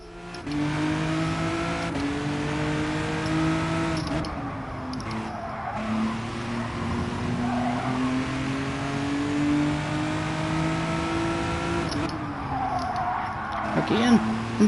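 A race car engine in Gran Turismo 7 drones and shifts pitch through gears, with tire squeal under braking and renewed revving, while someone talks over it throughout.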